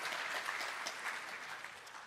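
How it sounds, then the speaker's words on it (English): Church congregation giving a brief round of applause, a steady wash of many hands clapping at moderate distance, fairly quiet and continuous without voices. "would you give Adrian a little round of applause, please?"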